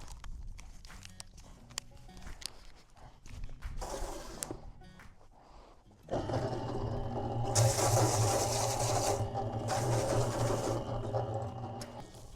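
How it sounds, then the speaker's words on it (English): Bagged concrete is mixed by hand on grass to a thick oatmeal consistency, with scraping and sloshing that grows louder and denser halfway through and continues steadily, close and without speech. "I mix the concrete to about a medium thick oatmeal consistency"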